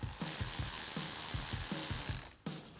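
A ratchet tightens nuts down onto stacked wire terminals on a truck bumper install, giving a close, steady run of quick rhythmic clicking strokes that pause briefly near the end.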